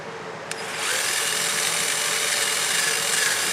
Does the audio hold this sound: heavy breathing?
no